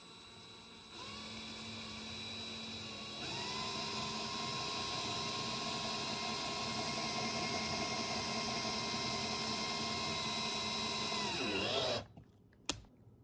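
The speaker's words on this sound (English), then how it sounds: "now I'm gonna drill a pilot hole up here so that I can insert the other ornament into" A power drill bores a pilot hole into the top of a Christmas ornament, a steady close motor whine that rises in pitch partway through, runs for about eleven seconds, then cuts off with a clack.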